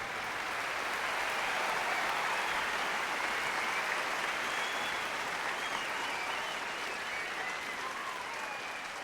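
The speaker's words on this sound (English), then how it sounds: "I think we should give them a round of applause." Arena crowd in the NBA 2K basketball video game applauding a retiring Knicks player, a dense, steady roar of clapping that holds evenly throughout with no talking.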